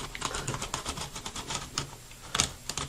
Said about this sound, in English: it seems easier just to cut through the cardboard